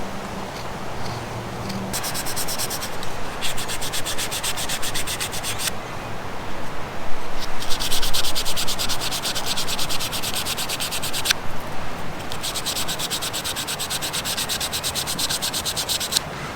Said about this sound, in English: I think I might just give it a sand now, really.